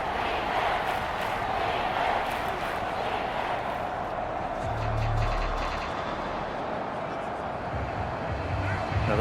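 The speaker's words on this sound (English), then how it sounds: "this crowd's going to get even louder" Stadium crowd roar in a Madden NFL 24 Panthers vs Saints game, a constant dense wash of cheering that swells near a goal-line third down, with low rumbles and a commentator's voice running over it.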